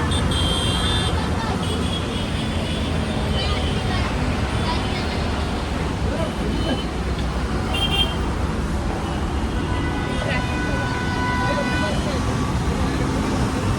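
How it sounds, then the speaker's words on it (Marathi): Busy road traffic makes a continuous nearby hum, with scattered horn toots throughout and people talking over it. "बघितली ट्रॅफिक केवढी आहे."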